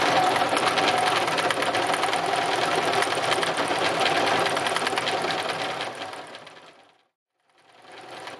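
Sewing machine stitching fabric pieces, a fast continuous mechanical whir close by that slows and stops near the end, then briefly starts again.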